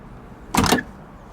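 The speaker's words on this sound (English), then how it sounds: "Oh, I like the sound of the door." A Mercedes Vito van door at a junkyard shuts with a single solid, short thud, fairly close and clean against quiet background hiss.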